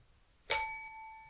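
A single bright bell ding used as a sound effect in a podcast, struck once and ringing out with a clear, fading metallic tone in otherwise quiet surroundings.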